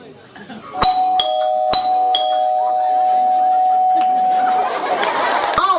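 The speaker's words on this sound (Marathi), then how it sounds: "थांब मी बेल वाजवतो" A doorbell rings twice with bright ding-dong chimes at a house during a school play, the tones ringing on afterward while voices murmur nearby.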